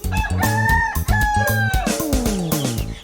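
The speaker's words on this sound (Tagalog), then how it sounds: "Ang chicken pet ni MJ na si Mocha." A pet chicken, raised from an orange chick, crows loudly and close by in repeated bursts, with clucking mixed in as the calls trail off.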